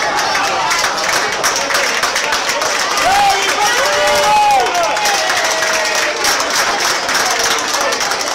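Crowd applause and cheering for the SC Mirabella team at an international youth football tournament, a dense, steady wash of clapping that lasts throughout, with faint voices and whistle-like tones rising in the middle.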